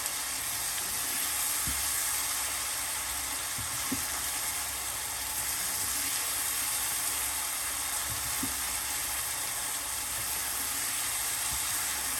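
Quail sizzles steadily in a karahi with salt and turmeric, a constant broad frying hiss with a few faint stirring clicks and no talk.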